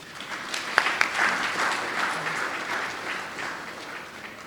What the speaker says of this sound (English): Let's give these supporters a resounding round of applause.